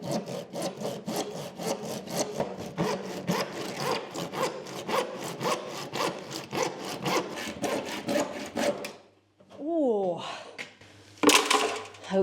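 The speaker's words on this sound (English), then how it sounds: "Now it's time to cut the sill." A handsaw cuts through a wooden window sill with steady back-and-forth strokes, fast and rhythmic at close range, then stops, followed by brief knocking and handling noises.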